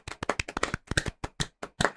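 Hands clap in a quick, uneven burst of about a dozen sharp claps, close by, with no talking.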